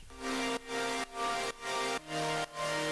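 A higher-octave saw-wave synth, heavily distorted, plays a rhythmic line of five sustained buzzing chords, each cut off abruptly, loud and alone with no voices.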